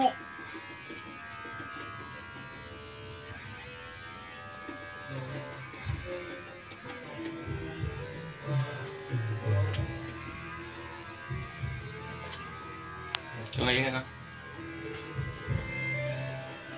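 An electric hair clipper hums steadily at a moderate distance while cutting a boy's hair, its buzz shifting slightly as it works, with faint voices and small movements in the background.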